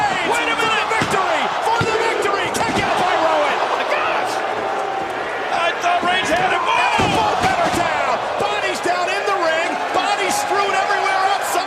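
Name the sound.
wrestling arena crowd cheering at Elimination Chamber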